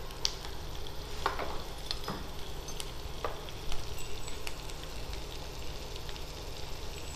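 Pasta ingredients with capsicum sautéing in a pan, a steady close sizzle with sharp scrapes and clicks of a spoon stirring at irregular moments.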